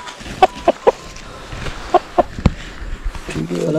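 A rooster gives a series of short, clipped clucks, close and fairly loud in an uneven rhythm, with people talking around it.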